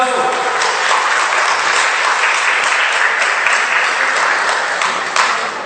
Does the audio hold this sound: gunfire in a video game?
no